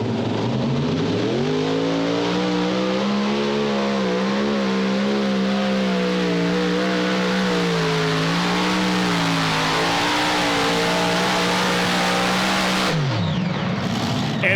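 Super modified tractor at a tractor pull, a huge-horsepower engine roaring loud and close with a sustained, wavering pitch climbing and holding for about twelve seconds before it cuts off abruptly near the end.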